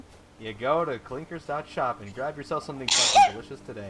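Someone talks steadily, then a short, sharp sneeze bursts out near the end, close and loud.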